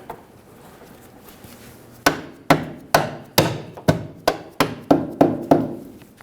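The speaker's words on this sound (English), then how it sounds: "I'm going to use a soft-faced hammer to help me put the bolt all the way in" A soft-faced hammer taps a bolt through the rear shock bracket of a 2003-2008 Honda Pilot, about a dozen sharp, evenly spaced knocks after two seconds of quiet, each ringing briefly.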